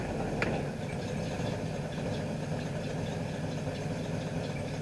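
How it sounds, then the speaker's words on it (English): Mustang V8 engine idling in gear with a steady, rough low rumble and a faint rhythmic knock, heard close and continuous with no talking. "Let's see how it sounds when I put it in gear."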